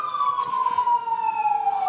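A State Highway Patrol police car siren wails in a steady, slowly falling tone during a Labor Day parade in Trinidad, Colorado, loud and close, sounding alone without talk.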